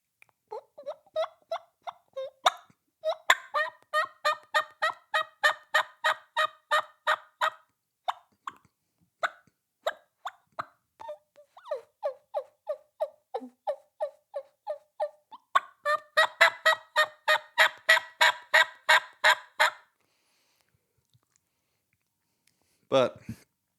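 Turkey hunting call working soft hen yelps and clucks in quick rhythmic runs, two long series with scattered single notes between, close and fairly loud, imitating turkey sounds for coaxing a gobbler down, with no talk over it.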